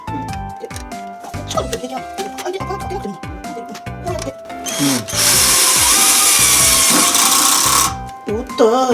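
A cordless power driver runs screws into wood during home DIY work, mounting storage for a Dyson vacuum, with one loud, continuous whirring burst of a few seconds over background music.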